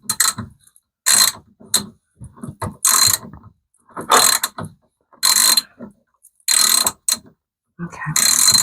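A ratchet tool turns screws on a Samsung washing machine under repair, giving repeated bursts of close, sharp ratcheting clicks separated by short pauses, with no talk.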